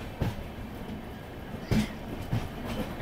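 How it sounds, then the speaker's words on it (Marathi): A train on the Dudhsagar waterfall line rejoining the main line, with a steady rolling rumble and a few clicks of wheels over rail joints, moderately close. "ट्रेन पुन्हा येते मेन लाईनवर"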